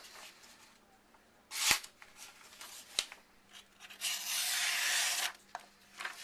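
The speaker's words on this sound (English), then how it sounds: "Let me just see what happens if I attack the paper." A survival knife slices through paper in quick rasping strokes, a short sharp burst followed by a longer steady scrape, close and fairly quiet with no talk.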